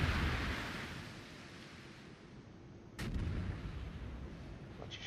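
Ship artillery firing in a naval video game: a booming salvo opens over a rushing wind-and-sea wash, then a second sharp blast cracks out midway and rumbles on beneath the ocean noise.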